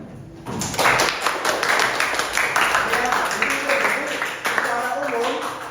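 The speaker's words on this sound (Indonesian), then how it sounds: "Oke, tepuk tangan." A classroom group claps together in a burst of dense, overlapping hand claps that continues steadily for several seconds, fairly close, with a voice speaking over it.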